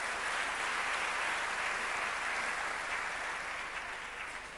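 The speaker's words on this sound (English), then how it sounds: "Please give a round of applause to the diversity of Majan College." A large audience applauds at a university graduation ceremony, a dense, even wash of clapping that holds steady throughout and eases slightly toward the end, with no voices over it.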